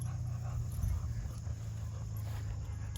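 Two dogs pant heavily and close by while playing with a shoe, a steady rough breathy rhythm with faint whimpers mixed in, and no talking.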